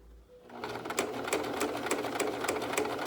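A sewing machine stitches a pleated fabric face mask, starting after a brief quiet moment, then a rapid steady whirring hum with regular clicking pulses, close and loud.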